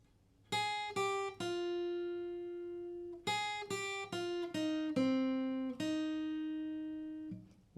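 An acoustic guitar picks the opening two bars of a song, a run of distinct plucked single notes in two phrases separated by a short pause, played alone and close.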